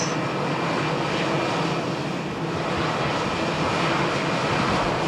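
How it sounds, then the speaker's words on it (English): An EasyJet airliner at Malaga Airport on a stormy morning gives off a steady, broad jet roar that is loud and continuous for a few seconds, with no voices. "an EasyJet. Destination Valladolid."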